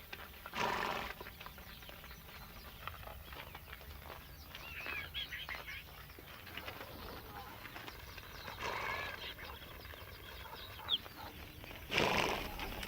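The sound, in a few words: horses moved by herders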